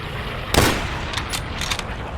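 Gunfire in Call of Duty: one loud, sharp shot up close, then a few fainter, quick shots following over a steady game background.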